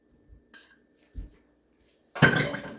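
A metal spoon clinking against a dish while sour cream is mixed for a chicken and broccoli casserole, a few soft scattered taps and then one louder, longer scrape near the end, close up in a quiet kitchen.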